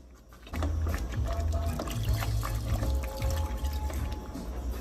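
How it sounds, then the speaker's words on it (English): Water is poured into a pot of cornmeal porridge on a low stove, a close, continuous gurgling splash that lasts several seconds after a quiet start. "And I'm gonna add a little more water."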